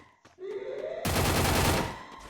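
Automatic gunfire from a mobile shooter game, a sustained loud burst of rapid shots that erupts after a short lead-in of game sounds and fills most of the clip.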